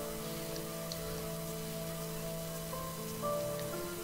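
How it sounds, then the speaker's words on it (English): Steady rain falling in a scene from the video game Heavy Rain, a constant hiss under a sustained tonal musical drone, with no voices. "It's just the rain."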